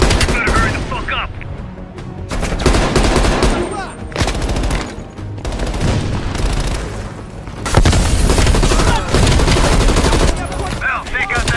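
Heavy machine gun fire and explosions from Call of Duty: Cold War ring out loud and dense in sustained rattling bursts with booming impacts, while a voice speaks briefly in the midst.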